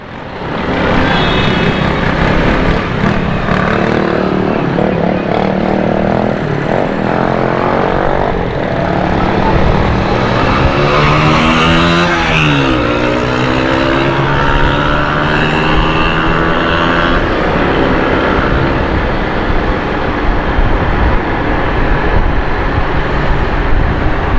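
Dense road traffic in Karachi, a continuous loud roar of engines and passing vehicles close by, with a whining pass-by swelling midway.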